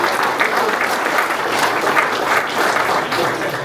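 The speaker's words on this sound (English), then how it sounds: "Let's give him a round of applause." A crowd at a police department promotions and new-hire ceremony gives a round of applause, loud and dense with steady clapping throughout.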